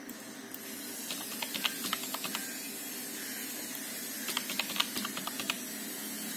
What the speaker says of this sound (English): and you want to type the password